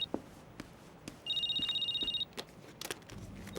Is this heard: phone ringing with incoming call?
yes